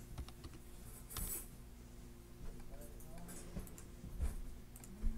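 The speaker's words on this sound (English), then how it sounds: "I'm going to type live." Typing on a computer keyboard: a close, uneven run of light key clicks and taps with a few louder strikes, heard under a man's quiet speech and a faint steady hum.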